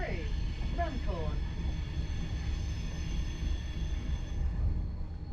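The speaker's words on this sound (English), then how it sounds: "We depart Euston Station, bang on time." An Avanti West Coast train pulls out of London Euston, its low steady rumble filling the carriage. Brief squeals and tones come at the start, and a voice speaks over the noise.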